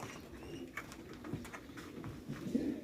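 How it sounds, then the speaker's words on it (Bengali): Large pigeons in Qatar coo softly in a low, repeated murmur, with several birds overlapping nearby and faint rustling and outdoor ambience underneath, and no voices. "অনেক কবুতর আছে এই জায়গায়,"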